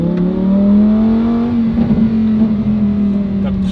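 A Lamborghini Huracan STO with a titanium exhaust and open valves revs loud and close, its engine tone holding steady and then swelling, with a few sharp pops and a little speech under it.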